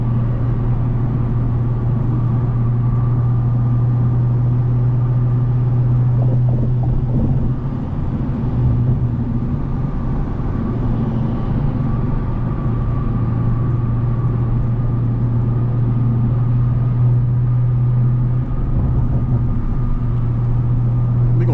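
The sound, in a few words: BMW M340 500+ hp accelerating hard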